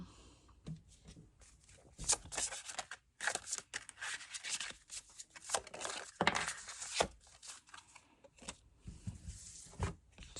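Paper cards shuffled by hand at close range, a series of irregular riffling and snapping bursts with short pauses between them, fairly quiet overall and with no talking.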